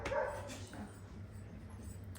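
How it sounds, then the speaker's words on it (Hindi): Dogs bark, a loud burst at the very start followed by fainter barking and yips somewhere off at a distance, heard alone in a quiet room. "कुत्ते भौंक रहे हैं"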